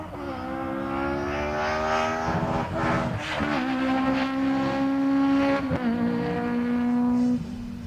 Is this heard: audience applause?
no